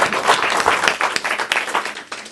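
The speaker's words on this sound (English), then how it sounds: "And one more round of applause for our panelists." An audience at a hospitality industry conference event gives a dense, loud round of applause for the panelists. The clapping continues steadily throughout, close and unbroken.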